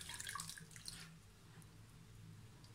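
Milk is poured into beaten eggs, making a soft, steady liquid splash and trickle that stays faint and close. No one speaks while it pours.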